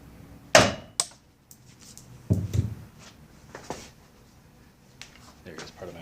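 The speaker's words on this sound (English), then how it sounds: "Now we just got to break the gasket to get this off. So what I'm going to do for that is just hit it with a mallet" A mallet strikes an Evinrude 8 HP outboard powerhead to break the gasket, a few hard close knocks and clacks with lighter taps and handling noise between.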